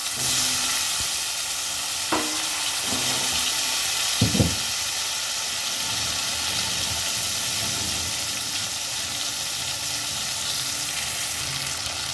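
Potatoes and tomatoes fry in oil tempered with white cumin, giving a continuous close sizzle with a few scraping knocks from stirring partway through.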